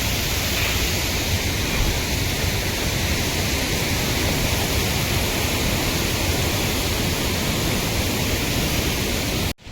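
A mountain waterfall along the Langtang trek in Nepal roars as a steady, dense rush of falling water, loud and continuous for the whole stretch before cutting off abruptly.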